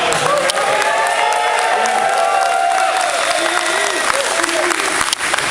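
Commencement crowd applauding and cheering loudly, dense continuous clapping with whoops, while voices carry over the noise.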